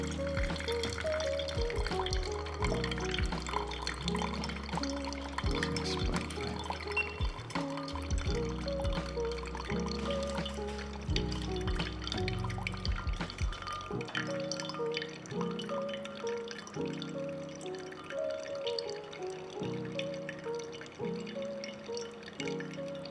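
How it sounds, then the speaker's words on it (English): Water poured steadily onto a Hario V60 Suiren coffee dripper, 100 ml, giving a continuous close trickle and drip with faint background hum, no talking. "now we're gonna pour 100 ml water onto the Suiren"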